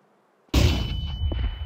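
A grenade explosion in Counter-Strike 2 breaks a short silence with a sudden loud blast, followed by a rumbling, crackling decay that fills the rest of the moment.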